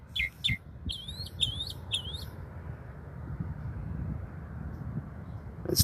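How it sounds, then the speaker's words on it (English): A songbird sings outdoors in pre-dawn darkness, close by, with a few quick bright chirping phrases early on before falling quiet over a soft, continuous low rumble of distant ambient noise. "I can't see this bird that's singing to us, but he's just right here."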